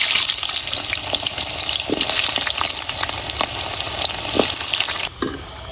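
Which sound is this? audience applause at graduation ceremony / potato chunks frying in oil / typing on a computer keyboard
potato chunks frying in oil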